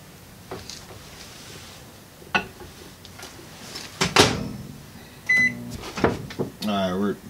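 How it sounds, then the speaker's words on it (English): A kitchen microwave oven is used to reheat food: door and latch clicks, a short humming run and a series of electronic beeps near the end, spread over a quiet room. "I'm going to end up popping it back in the microwave for about 20, maybe 30 seconds."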